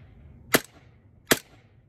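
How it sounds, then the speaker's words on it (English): Two sharp, loud pops from an Umarex Glock 19X Gen 5 green gas airsoft pistol ring out about a second apart, each crisp and alone in a quiet room. "Dude, I had no idea green gas guns were this freaking loud."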